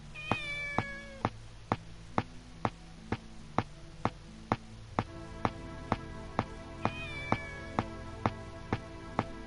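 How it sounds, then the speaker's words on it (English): A cat meows several times, close and clear, over a steady series of evenly spaced sharp ticks that run throughout at a regular rhythm. "See the cat in the morning."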